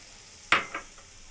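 Soy sauce poured into a pan of half-fried mixed vegetables hits with a sharp sizzling burst, then a smaller second hiss, and both fade quickly over quiet background.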